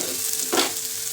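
Onion, ginger and garlic frying in a pan give a short burst of sizzling as they are stirred, brief and close, with no talking.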